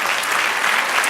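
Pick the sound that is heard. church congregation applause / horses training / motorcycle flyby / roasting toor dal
church congregation applause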